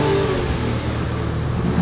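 A car engine revs hard up close, a loud, rough roar that holds steady with only slight dips for under two seconds.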